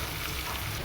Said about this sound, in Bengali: আজকে বড় গলদা চিংড়ি ফ্রাই করা হচ্ছে।